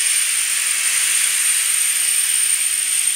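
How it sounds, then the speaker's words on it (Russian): Engine oil drawn from a 2014 Range Rover Sport 3.0 by an air-powered extractor, heard as a steady, loud, close hiss of rushing air that stays unbroken throughout. "открываем воздух, пошло масло"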